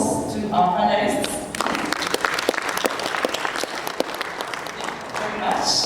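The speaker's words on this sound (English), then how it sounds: "So a round of applause to our panelists." An audience at a forum in Kigali applauds its panelists, dense, loud clapping that follows a brief voice at the start and continues strongly to the end.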